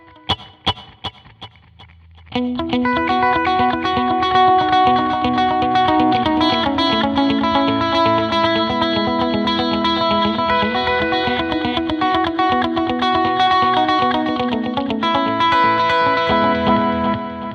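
Electric guitar chords ring out with a dotted eighth note delay, echoes repeating in a steady rhythm behind the playing after a few soft plucks.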